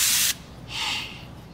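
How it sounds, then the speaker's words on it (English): Axe body spray hisses from an aerosol can in a sharp short burst, then a second longer spray follows after a brief pause, both close and loud. "The Scottie Barnes Axe Spray"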